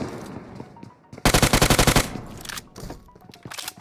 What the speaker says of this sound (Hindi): लेकिन इसको कहीं और से फायर पड़ने लगता है।